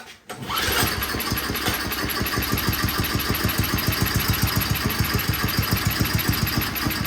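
A Craftsman snowblower's small engine catches on a pull start and settles into a steady, loud idle, its rapid regular putter close by and unchanging for several seconds.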